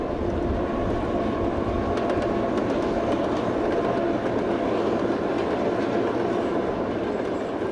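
A train rolls along the Western BAM railway with a loud, continuous rumble and steady rattling of wagons that stays close and even throughout, with no voices.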